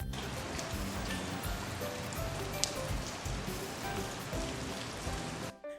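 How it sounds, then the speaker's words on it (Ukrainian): Steady patter of gentle summer rain falling on a surface, a soft continuous wash of droplets with no voices, fairly close and even throughout. "Це шумить крапельками дощу спокійний літній дощ."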